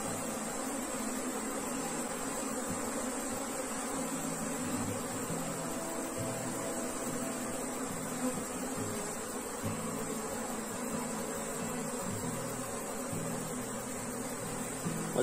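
Bees buzz steadily around an open hive while a beekeeper searches for and catches the queen bee, a dense continuous drone filling the whole stretch at even loudness, with no talk over it.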